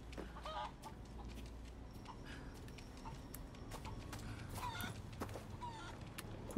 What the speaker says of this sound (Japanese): これで鶏が卵を落としてくれるとちょうどいいんだよな